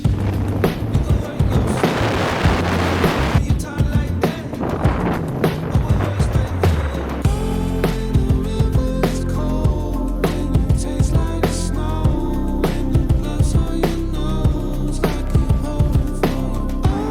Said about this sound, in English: we rented ATVs and drove around exploring the island